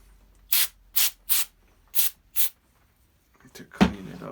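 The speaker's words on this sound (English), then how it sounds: "What I'm gonna do is I'm gonna spray some brake cleaner on there" Brake cleaner sprayed from an aerosol can onto the carburetor of a Duratrax Maximum Pro RC car: five short hissing bursts in a loose rhythm, a pause, then a brief clatter of handling.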